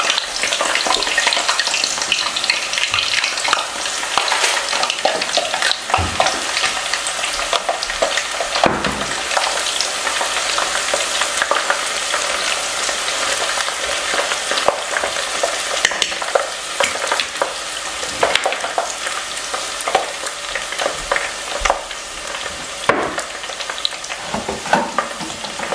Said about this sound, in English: I'm going to just put them in here and let them fry